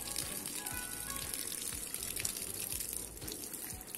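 Heavy running water pours over and drenches a Samsung Galaxy A53 5G phone during a durability test, a steady splashing gush with rhythmic spattering throughout, fairly quiet and with no voices.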